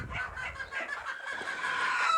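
Chickens clucking in a backyard poultry coop of over three hundred birds, several overlapping clucks and calls repeating in quick bursts, moderately close with no talk.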